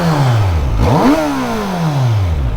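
A Kawasaki Z900 motorcycle on its stock exhaust is revved hard. The engine climbs sharply to a peak, then winds back down in one smooth, loud, close sweep, with no voices.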